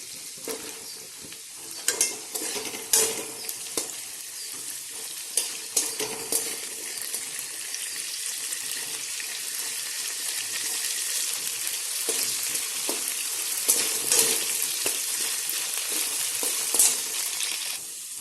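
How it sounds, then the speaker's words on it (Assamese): Potato pieces fry in oil for a chicken and white gourd dish, a soft continuous sizzle with occasional light clinks and scrapes of stirring, fairly quiet and even throughout. "এইবাৰ আমি এইখিনি তেলতে আলু কেইটুকুৰা অকণমান ফ্ৰাই কৰি ল'ম"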